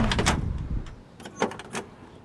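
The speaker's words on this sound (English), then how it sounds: "doors open up like gravy, very smooth" Door of a 1965 Pontiac GTO opening, a few soft clicks and a muted latch thud close by, with faint handling noise and no talk.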